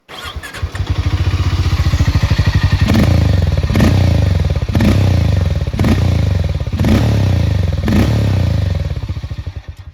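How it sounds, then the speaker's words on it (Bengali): A Harley-Davidson X440 T with a 440cc single-cylinder engine idles with a loud, close, pulsing exhaust thump, then blips the throttle in about five evenly spaced revs. "চলুন একবার এক্সস্ট নোট আপনাদের শোনাই।"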